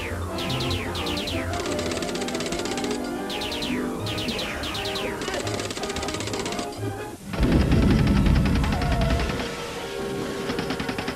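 Cartoon robots blast away with guns in bursts of rapid shots and zapping laser-like effects over a backing music score, ending in a louder explosive rush.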